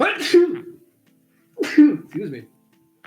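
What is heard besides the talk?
sneeze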